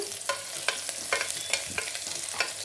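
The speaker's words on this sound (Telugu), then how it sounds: "ఆనియన్స్ తొందరగా వేగిపోతాయి కదా అందుకనేసి వేసి వేపుకున్నాము" Onions with rock salt frying in a pan, a steady close sizzle punctuated by regular sharp scrapes of a spoon stirring, no talking.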